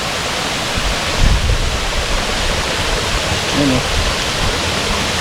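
Kaparkan Falls in Tineg, Abra, a constant broadband roar of falling water heard close by, with brief voices talking over it partway through.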